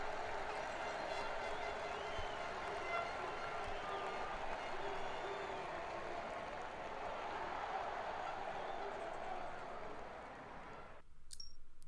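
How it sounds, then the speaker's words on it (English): Applause from the team and fans celebrating the day's riders in the MotoGP 18 video game after a race at Le Mans, a steady dense crowd roar and clapping that holds for about eleven seconds before cutting off abruptly. "Here are the stars of the day, enjoying a round of applause from the team and fans"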